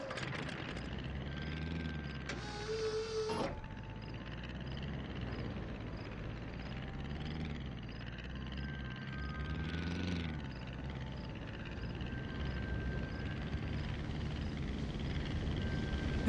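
Banjo copter vehicle in the video game Banjo-Kazooie Nuts & Bolts, a low steady whirring engine drone with a rhythmic pulsing throb, playing continuously with a brief chime partway through.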